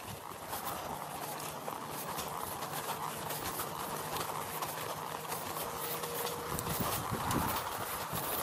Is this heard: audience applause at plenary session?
no